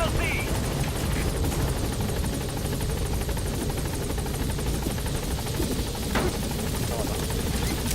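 A helicopter in Metal Gear Solid V, its rotor beating in a loud, constant drone with engine buzz, steady and close for the whole stretch.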